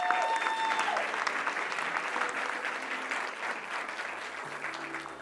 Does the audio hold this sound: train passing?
no